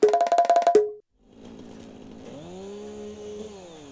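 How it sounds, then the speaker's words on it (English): Chainsaw from the video game Satisfactory cutting down trees: a loud, rapidly pulsing buzz for about a second, then a lower steady engine drone that rises and holds, with no talking. "Don't you love the sound of the chainsaw in the morning?"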